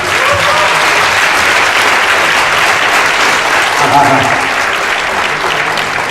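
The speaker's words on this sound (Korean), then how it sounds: "뜨거운 박수를 한번 맞이해 주시기 바랍니다" Dense, loud applause from an audience at a Yonsei University public administration department evening event fills the whole stretch steadily as the Akaraka cheer squad is welcomed on stage.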